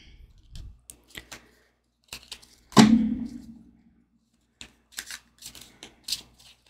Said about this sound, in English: We'll do some shuffling here.